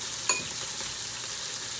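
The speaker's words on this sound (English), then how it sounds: "then you put it in the hot oil, which is getting hotter as we speak" Flour-dredged onions frying in hot oil, a soft continuous sizzle with one small sharp tick near the start, heard close and alone.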